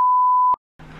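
A censor beep sounds as a steady, loud electronic tone for about half a second, then cuts off abruptly, followed by silence and the start of a voice.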